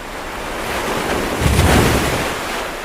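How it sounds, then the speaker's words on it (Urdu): Sea waves crash under strong, gusting wind, a loud, continuous roar of surf that swells and peaks midway, with wind buffeting the microphone and no voices. "سمندر کی لہروں کے ساتھ تیز ہوا چلنے لگی۔"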